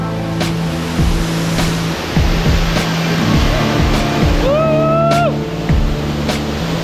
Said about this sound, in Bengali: প্রচন্ড ঝর্ণাটা যে পড়ছে, প্রচন্ড হাওয়া ঝর্ণার